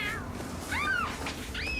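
A cat meows three times, short rising-falling cries spaced apart, clear over a steady low background hum with no talking.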